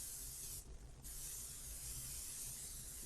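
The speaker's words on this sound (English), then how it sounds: "We're using pan spray so we can keep the mess down in our pan here." Cooking spray hissing steadily into a pan before sausage is cooked, a continuous close spray with one brief pause near the start.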